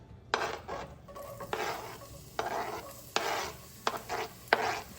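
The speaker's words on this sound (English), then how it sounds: "just let that saute the onion in the oil to get the flavors" Onion and hot pepper sauté in oil in a pan. A steady sizzle is broken by repeated bursts of stirring and scraping from a utensil against the pan. The sounds are close, and no voice is heard.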